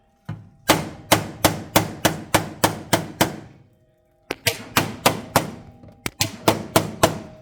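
A hammer taps a metal floor panel onto a floor rail in quick rhythmic bursts of sharp ringing strikes, about nine blows, a pause, then two more runs, close and loud with no talk.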